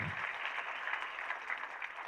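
Audience applause at a Tamil movie audio launch event, a steady dense clapping from a crowd that carries on throughout, moderately loud with no talking over it.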